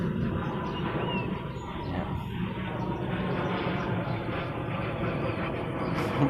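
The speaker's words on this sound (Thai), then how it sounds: "ตกปลาด้วยดูเครื่องบินด้วย" An airplane passes over a fishing pond as a continuous low, broad rumble that stays fairly steady and moderately loud, with faint outdoor ambience around it.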